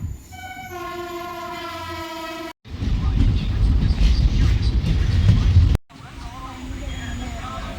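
A train horn sounds a sustained chord, then a loud roaring rumble of a passing train drowns everything before fading to lower rolling noise, near Kollam, India.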